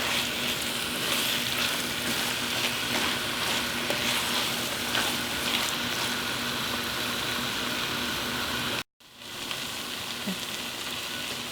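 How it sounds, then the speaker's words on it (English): Beef browning in a pan with caraway seeds for Hungarian goulash sizzles and fries steadily and loudly, with a brief dropout near the end before the sizzle resumes. "We are going to brown this beef until, well, cook it until it's brown"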